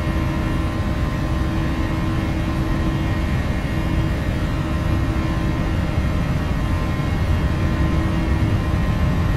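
A Ryanair airliner's jet engines spool at takeoff thrust in a flight simulator: a steady, loud, unbroken roar with a whining tonal hum on top, holding even throughout with no voices.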